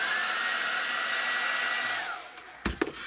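A hair dryer blows steadily to dry weathering paint on an Airfix FW190 model, a loud continuous whirring rush that winds down near the end and is followed by a few light handling knocks.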